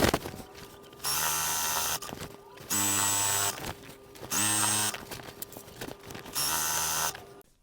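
A sewing machine stitching binding onto a quilt, running in four steady bursts of about a second each, separated by short pauses, close and fairly loud with no talk.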